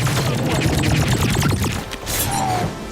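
Rapid automatic fire from the overpowered chain gun in The Mandalorian, a dense rattling burst of shots layered with mechanical clatter and impacts, loud and continuous for about two seconds before thinning under other action sounds.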